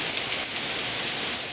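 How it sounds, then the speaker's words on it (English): Water leaks from valves and piping inside the St. Louis water treatment plant, a dense, steady hiss like heavy spray or rain that stays constant at close range. "what you're hearing is water leaking from around the valves and piping in the plant here"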